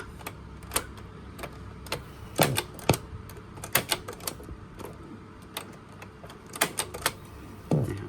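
A vintage Made-in-Japan Sony CF-1490 220V cassette radio with a newly replaced belt winds its tape, giving a steady mechanical hum under irregular close clicks and clacks of the transport and buttons, with no speech.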